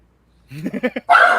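A dog gives a few quick, high yips, then breaks into one louder, harsher bark close by, with no talk over it, during a tabletop roleplaying game session.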